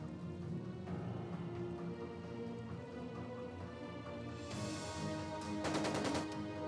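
Gunfire in the video game Trails of Cold Steel II, a sharp burst of rapid shots near the end that rings out over a dense, continuous game soundtrack.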